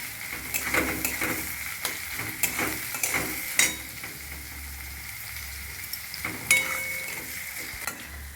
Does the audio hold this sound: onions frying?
yes